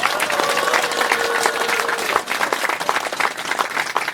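Audience applauding at a commemoration ceremony for the 38th anniversary of the June 10 democratic uprising in Suwon; steady dense clapping from a crowd that carries through the whole stretch with a slight dip near the middle.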